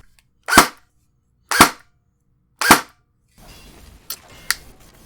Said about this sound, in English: I'm going to flip this a semi and pull the trigger a couple times.